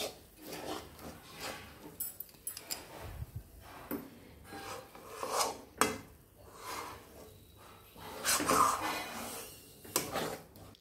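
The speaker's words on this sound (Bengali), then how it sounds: "আমি এটা অনবরত নাড়তে থাকবো, পাক করছি এখন।" Mango sondesh mixture stirred nonstop in a cooking pan: repeated rasping scrapes of the spoon against the pan surface in uneven strokes, close and moderately loud, with no voices.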